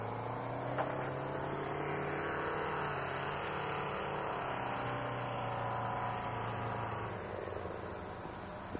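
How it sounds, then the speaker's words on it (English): Space Shuttle Columbia rolling out on runway 33 at Edwards Air Force Base after touchdown, with a steady, loud broadband roar and low whine holding level throughout, no voices heard. "Columbia rolling out on runway 33 at the Edwards Air Force Base."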